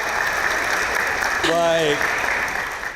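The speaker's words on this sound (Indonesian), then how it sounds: "Oke, tepuk tangan buat semuanya." Steady audience applause fills a campus hall at a talk-show event, a dense clapping wash throughout while someone briefly speaks over it midway before the clapping fades slightly.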